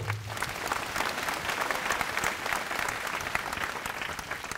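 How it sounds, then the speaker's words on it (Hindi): A large outdoor crowd at a political rally in Bhubaneswar breaks into sustained, even applause, a thick wash of many hands clapping at once that holds steady throughout. "सभी के लिए एक बार जोरदार तालियां बजा दो"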